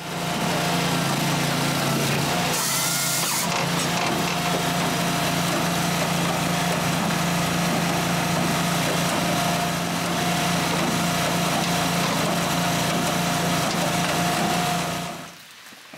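A firewood processor runs steadily while working a length of beech, its engine holding a loud, continuous drone with a brief higher burst of cutting or splitting near the start, then cutting off abruptly at the end.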